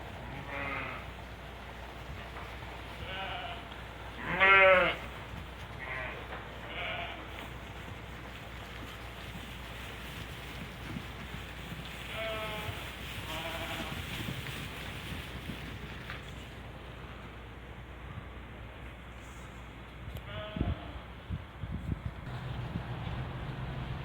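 A mixed flock of Hungarian Merino and Karabash sheep bleats in scattered calls, one loud and close, the others fainter and spread out, over steady wind noise.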